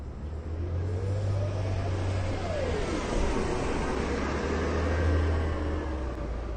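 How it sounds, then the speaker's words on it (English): A natural gas city bus passes on a street in Crystal City, Virginia, its low engine drone and tire rumble steady under broadband road noise over several seconds, with no talking. "That's actually, I think, a natural gas bus."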